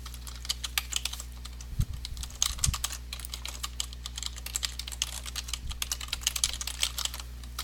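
Typing on a computer keyboard into an online form, rapid close keystrokes in quick bursts with a couple of louder thumps, likely the space or enter key, over a steady low electrical hum.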